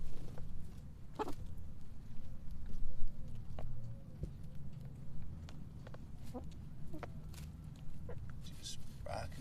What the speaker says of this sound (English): Just rocking it as a chicken.